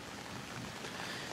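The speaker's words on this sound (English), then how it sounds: "Drip, drips. It's raining." Rain falls steadily outdoors with drips landing nearby, a soft continuous wash of drops and patter at low level with no voices.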